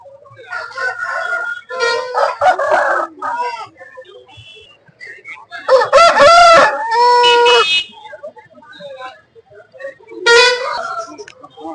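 A rooster at a market in Anantapur crows in several loud, drawn-out bursts spaced a few seconds apart, mixed in with people talking nearby.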